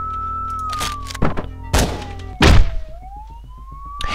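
Police sirens wail in Hotline Miami, a synthetic tone gliding down and back up, broken by loud thunking impacts and short bursts of game sound.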